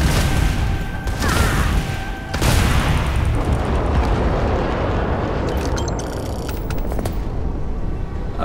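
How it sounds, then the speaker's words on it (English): Missile explosion in the space video game Starfield, a heavy booming blast followed by a sustained rumbling roar and scattered metallic mechanical clanks, loud and close. "Boom! Missile."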